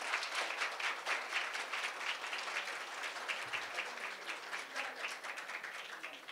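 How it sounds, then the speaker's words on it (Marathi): Audience applause for the chief guests at a memorial lecture hall event, a steady dense clapping from a large crowd that holds evenly throughout with no talking. "आपण पुन्हा एकदा जोरदार टाळ्या वाजवूयात आजच्या प्रमुख पाहुण्यांसाठी"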